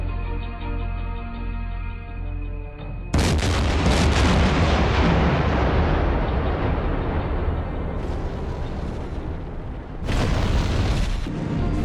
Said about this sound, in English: he heard breaking up sounds and explosions